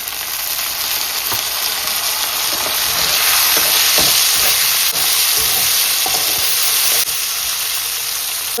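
Fenugreek and tomato hit hot oil in a tempering for a prawn and dried-fish thokku, giving a steady, loud, bright sizzle and hiss throughout with faint stirring scrapes underneath.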